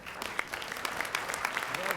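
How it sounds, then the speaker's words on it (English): Scattered claps from a small crowd at an awards ceremony, quiet and somewhat distant, with a voice briefly audible underneath. "Please, once again, a warm round of applause for Mr. Casey."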